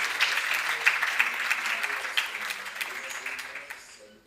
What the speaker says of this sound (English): And a round of applause for Jorge.